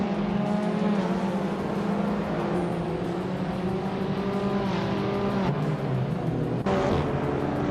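An Audi TT Cup race car's engine roars steadily throughout a racing game, with sustained high revs, shifting pitch and a few gear changes.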